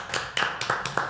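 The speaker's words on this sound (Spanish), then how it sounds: "yo me voy a permitir aplaudir" One person claps, about five distinct, fairly close hand claps at an uneven pace.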